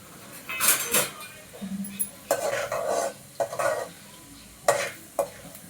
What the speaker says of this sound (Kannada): ಉದ್ದಿನ ಬೇಳೆ ಬೇಳೆ ಹಾಕೊಂಡಿದ್ದೀನಿ ಇವಾಗೆ ಸ್ವಲ್ಪ ಲೈಟಾಗಿ ಕೈ ಆಡಿಸ್ತಾ ಇದ್ದಾವೆ